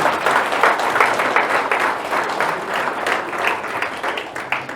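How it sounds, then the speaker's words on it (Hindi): An audience at a talk on CG and the metaverse applauds the motion graphics team, with continuous dense clapping and audible individual hand claps, steady and fairly loud throughout. "सो अगेन एक बार फिर से मोशन ग्राफिक टीम के तालियां"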